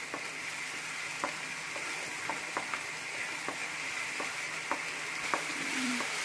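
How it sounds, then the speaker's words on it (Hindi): Onion, garlic and ginger paste frying in a pan over full heat for a palak paneer, giving a steady close sizzle with occasional light clicks of a stirring spoon against the pan throughout. "अब हमें प्याज को फुल आंच पर 2 मिनट के लिए भून लेना है, जिससे कि प्याज और लहसुन तक कच्चापन निकल जाए।"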